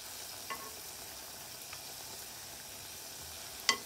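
Faint, steady crackle of battered onion rings frying in a narrow pot, with a couple of soft clicks and a sharper tap near the end, no voices.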